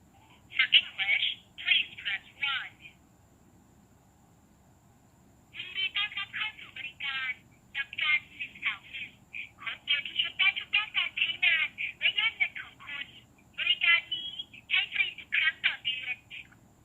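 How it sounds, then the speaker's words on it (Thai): Phone call audio through a V88 smartwatch: a voice on the line speaks in short bursts with a pause early on, sounding thin and band-limited like a telephone connection. "เดี๋ยวลองดูว่ามันโทรแล้วเสียงเป็นยังไงนะครับ"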